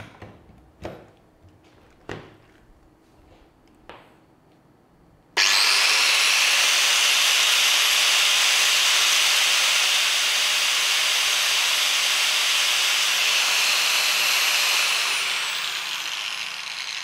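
After a few scattered knocks, a 350-watt angle grinder switches on and spins freely without load, a smooth, steady high-pitched whine with hiss that holds for about ten seconds before beginning to wind down.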